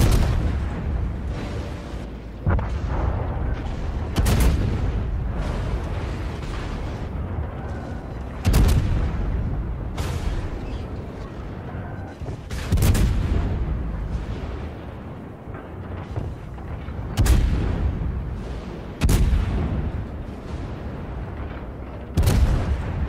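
Warship main-battery guns fire at the Moskva in the naval game World of Warships, with heavy booming salvos recurring every few seconds, sharp blasts standing out over a constant rumbling engine and sea backdrop.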